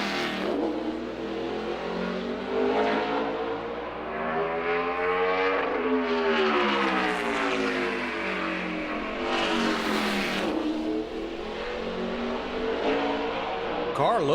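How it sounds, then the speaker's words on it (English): A NASCAR Toyota race car roars through a qualifying lap, its engine rising and falling in pitch through repeated gear changes and a passing swell, loud and continuous for the whole stretch with commentary talk over it. "Starts his first lap in this 87 car."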